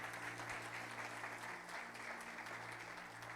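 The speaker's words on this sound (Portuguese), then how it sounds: "E se quiser e puder aplaudir a Jesus, vai ser também muito bom." A church congregation applauds together in steady, continuous clapping, heard at a distance over a low hum in the hall.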